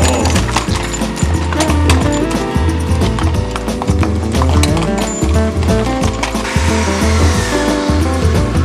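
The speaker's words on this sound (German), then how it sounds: "den Holztransport mit Pferdewagen" A horse-drawn wagon hauling timber, with steady rhythmic hoof clip-clop and wooden creaking and rattling of the cart running close and loud throughout.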